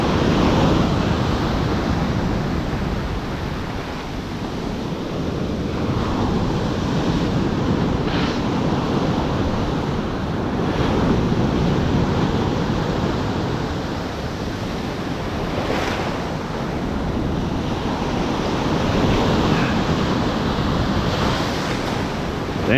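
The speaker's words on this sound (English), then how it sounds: "Damn, we got some big waves rolling in here today." Big ocean surf waves roll in and crash continuously along a foggy shoreline, a loud broadband roar with steady wind buffeting the microphone and no one talking.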